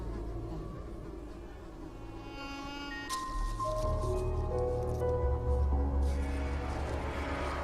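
An insect buzzes steadily near a red-leaved sundew carnivorous plant, its droning whine rising and shifting in pitch while staying close and fairly quiet.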